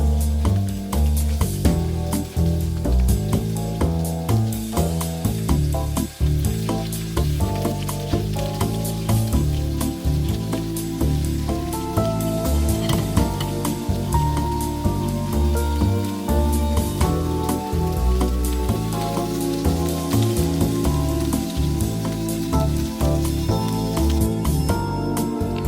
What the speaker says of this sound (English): pan-sear the beef for 1 minute each side or until slightly browned